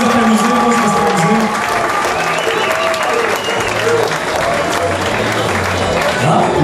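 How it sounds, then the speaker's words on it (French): A nightclub audience applauds the bands that played that night, with loud, dense clapping and cheering that keeps going throughout, up close and mixed with crowd voices. "J'aimerais dans le fait même qu'on donne un grand bel applaudissement à toutes les bandes qui ont joué ce soir."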